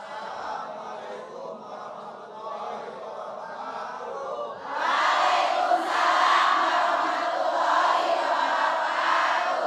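A large group of men at a religious gathering shout together in unison, a loud, massed chant that swells sharply halfway through and stays strong to the end, with a quieter crowd murmur before it.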